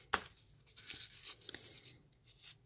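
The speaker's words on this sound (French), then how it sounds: "je vais la couper un petit peu. Alors, je prends des ciseaux." Scissors cut a strip of crepe paper in a few short, crisp snips and rustles, close and quiet, with no talking.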